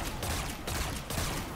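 Hand cannon fire in Destiny 2 during a nightmare-world encounter, a few close, heavy shots spaced roughly half a second apart over dense game noise.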